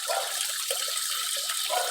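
Water runs steadily from a quarter-open supply valve into aquaponics tanks, a continuous broadband rush that stays even and moderately loud, with no talking.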